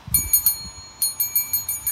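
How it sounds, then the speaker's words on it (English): A small bell on a children's swing set is rung repeatedly, a quick cluster of bright dings followed by a brief pause and another run of evenly spaced rings, close and clear. "You want to ring the bell one more time before we swing?"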